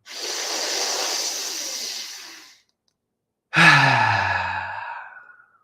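Two long, close breaths during breathwork for mountain athletes: a steady hissing exhale of about two and a half seconds, a pause, then a strong airy breath with a throaty, voiced edge that fades slowly. No talking.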